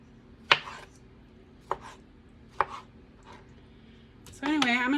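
Knife chopping tomatoes, onion, bell pepper and hot peppers on a cutting board, three or four sparse close chops, followed by a person starting to speak.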